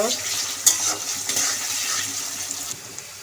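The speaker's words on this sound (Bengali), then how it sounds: "মরিচ পেঁয়াজটা হালকা ভাইজা নিব" Chilies and onions frying lightly in a wok of hot oil with cinnamon, cardamom, cloves and bay leaves, a close, steady hiss of sizzling with brief stirring clatters.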